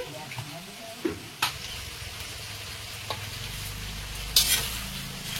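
Garlic paste frying with onions in oil in a kadai, a steady low sizzle broken by several sharp clinks and scrapes of a spoon stirring, with a quiet voice talking over it.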